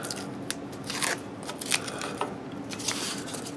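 Tape is peeled off a craft piece in short crackling, ripping bursts, several quick sticky tears at moderate distance with faint handling noise between them.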